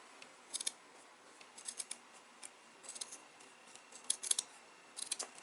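Scissors snipping a paper Christmas tree shape: short, crisp bursts of cuts in small clusters separated by quiet gaps, close and fairly faint, with no talking.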